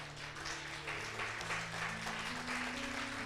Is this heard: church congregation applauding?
yes